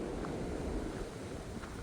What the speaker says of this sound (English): We got 30, 40 mile an hour constant winds, gusts higher than that.